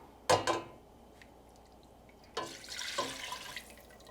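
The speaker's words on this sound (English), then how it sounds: "right now I've got my butter in my pan melting down. I'm going to add my broth in here." Broth poured into a pan of melted butter, with a short splash and gurgle followed after a pause by a longer, steadier pour that sizzles and trickles near the microphone.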